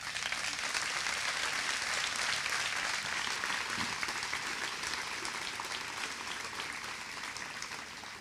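Steady applause from a political party's summer school audience, clapping for its organisers and participants; dense and sustained throughout at even loudness, fading slightly toward the end with no talking.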